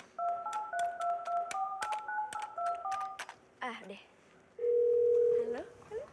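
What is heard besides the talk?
telephone number being dialed and dial tone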